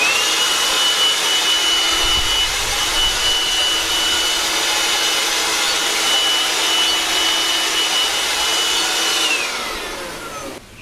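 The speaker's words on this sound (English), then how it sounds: "I'm now going to stand in the same place and blow using the Makita" A Makita cordless blower blasting sawdust gives a loud, steady high-pitched rushing whoosh with a motor whine, running continuously for about ten seconds before spinning down and fading at the end.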